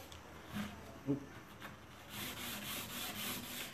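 Steady abrasive rubbing on an old wooden coffee table with a grit-embedded nylon pad, a soft scratchy scrubbing that grows more continuous in the second half, close by, with a couple of brief knocks early on.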